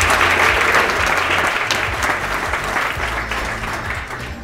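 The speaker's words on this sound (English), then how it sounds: "So a big round of applause for that." An indoor audience at a real estate kickoff event applauds steadily, a dense wash of clapping that holds strong for several seconds before gradually easing off.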